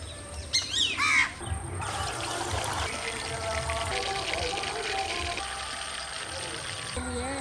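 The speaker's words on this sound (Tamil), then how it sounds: "ரேஷன் எண்ணெயை ஊற்றிக்கலாம்ப்பா." A steady stream of cooking oil pouring for several seconds to fry a whole chicken outdoors in a village, with birds chirping briefly at the start.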